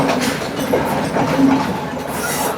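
A train rolls past a level crossing on a coastal line near Colombo, a close, steady rumble of wheels on rails with faint squealing, continuous and loud throughout the short stretch.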